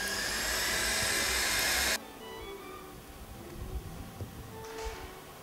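Egg and sugar beaten for zabaione cream: a loud, steady whir of an electric mixer for about two seconds, then it cuts off, leaving quiet room noise and a few light knocks.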